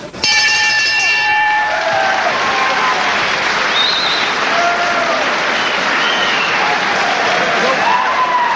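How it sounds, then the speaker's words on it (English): Crowd applause at a 1983 boxing match at Granada Studios in Manchester, a loud, sustained wash of clapping that fills the room after a brief bell-like ring at the start, with cheering and voices mingled in. "And they deserve applause, don't they?"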